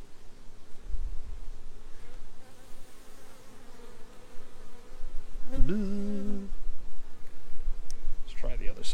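Honeybees buzz steadily around an open beehive during a brood-frame inspection, a dense close hum that swells briefly midway, with occasional handling noises.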